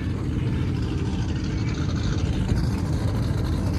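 Race cars sit lined up on a starting grid at a banger racing event, engines idling in a steady low rumble that stays constant and fairly close throughout.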